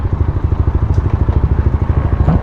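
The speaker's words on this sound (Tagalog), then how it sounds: "Ayun yung motor ni Boss Chan," A motorcycle idles close by at a motorcycle club meet, its engine throbbing in a loud, steady, rapid pulse with slight mechanical clatter throughout.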